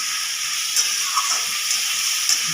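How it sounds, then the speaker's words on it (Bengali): Chicken pieces frying with onions in a pan while being lightly stirred, a steady close hiss of sizzling with a few faint scrape accents. "চিকেনটা দেওয়া হয়ে গেলে হালকা করে নাড়িয়ে পেঁয়াজের সাথে মিশিয়ে দেবো।"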